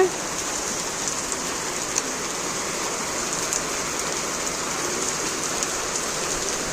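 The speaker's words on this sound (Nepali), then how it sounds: "साथीहरू एकैछिनमा परेको पानी, राम राम कत्रो परेको यो" Heavy monsoon-style rain pours steadily in a dense, continuous hiss with scattered drop impacts, close and loud throughout with no pauses.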